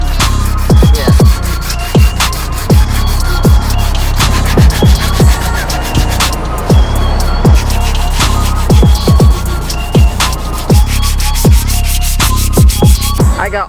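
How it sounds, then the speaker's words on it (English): Steady, loud abrasive rubbing of sandpaper on dinged door panels of a car body being prepped for Bondo, a continuous gritty scrape broken by frequent sharp knocks and clicks. "I got all the dings here sanded down and ready for some Bondo."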